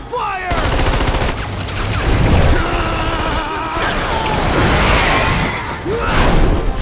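Heavy gunfire in a Lost Planet cutscene, a sustained loud fusillade of rapid shots with mechanical clanks and booms, and voices calling out over the barrage.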